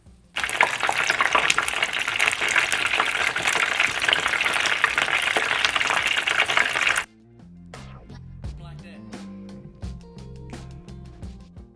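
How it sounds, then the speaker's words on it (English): Fish fillets sizzle loudly in hot oil for about seven seconds, a dense steady crackle, then cut off abruptly to quiet, scattered clinks and light handling sounds. "So I flip them over several times during the frying process"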